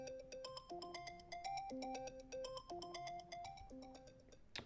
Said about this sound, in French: Prochaine sonnerie, circuit.